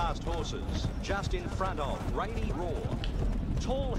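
Rapid rhythmic hoofbeats of a galloping buckskin horse in a video game run steadily beneath excited, continuous talk.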